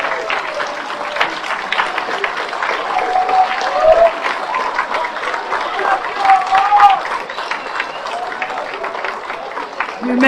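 Steady, dense applause from graduates' families fills a hall at an MSW hooding ceremony, many hands clapping at once without a break for the whole stretch.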